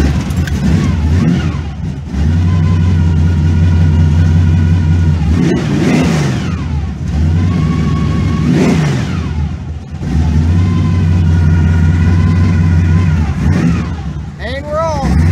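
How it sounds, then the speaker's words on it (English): Carbureted rat rod engine warming up, with a low lumpy idle broken by several sharp revs that rise and fall, loud and close, with a brief voice and faint jangling in between. "A lot of intake and carburetors to warm up."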